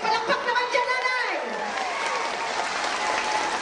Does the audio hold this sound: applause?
yes